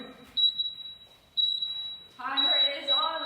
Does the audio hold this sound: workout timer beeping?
yes